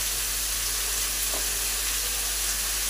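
A katla fish head fries in a pan with turmeric and salt, giving a steady, soft sizzle and hiss that stays even throughout with no talking.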